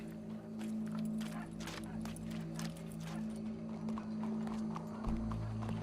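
Horse hooves clip-clop at a walking pace in Red Dead Redemption 2, a steady rhythmic clatter over a low droning background hum, with no talk heard.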